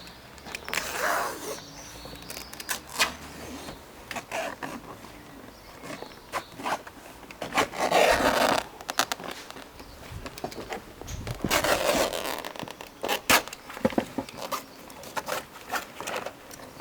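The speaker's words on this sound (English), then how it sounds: "we're now going to remove the rest of the hood, cutting it off" Old fabric hood being cut away from a Mazda MX-5 Mk1/Mk2 roadster, bursts of snipping, rustling and tearing material that come and go in irregular clusters, close up, with quieter handling noises between them.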